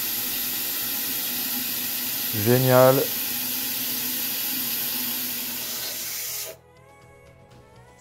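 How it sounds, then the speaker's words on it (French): Steady rush of water refilling a toilet cistern through a float valve, a continuous hiss that cuts off abruptly near the end, with a brief spoken word partway through. "Le réservoir se remplit."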